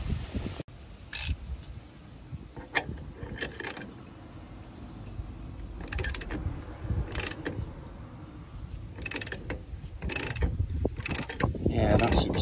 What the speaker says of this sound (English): we're only pushing the rubber out of the bushing itself, and the rubber's already detached